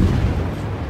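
A deep, booming warship broadside from the naval video game, with HMS Belfast engaging ships like the Scharnhorst; a single loud low rumble that fills the whole moment.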